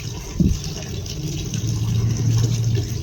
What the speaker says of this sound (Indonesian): Setelah ditancapkan, siram tipis-tipis aja biar lembab.